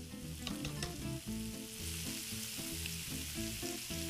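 Bacon sizzles steadily in a pan with a constant close crackle and frying hiss, and soft stirring clinks sound now and then.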